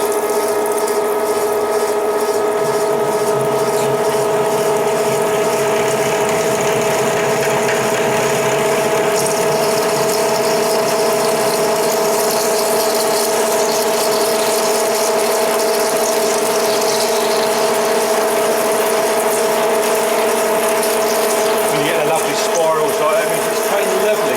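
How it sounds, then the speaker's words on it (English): A lathe drills with a large bit, using coolant, during work on a Massey Ferguson TEA20 tractor, a steady, continuous mechanical whir with a strong humming tone that holds unchanged throughout. "We'll see if this is going to drill nice."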